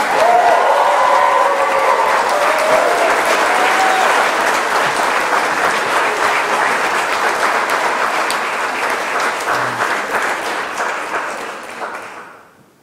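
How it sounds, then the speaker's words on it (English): A large audience applauds steadily at the 2017 Next Steps at Vanderbilt graduation ceremony. The dense clapping holds for about twelve seconds, then fades out at the end. "And let's give Nyla one more round of applause."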